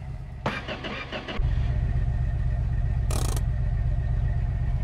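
A car engine in a home garage cranks with a stuttering whir, then catches and settles into a steady, loud idle with a brief higher burst of noise partway through.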